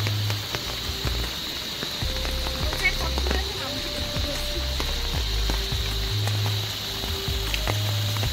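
Light drizzling rain on a mountain trekking trail, a steady, even patter of fine drops on surfaces with occasional sharper taps, continuous and close.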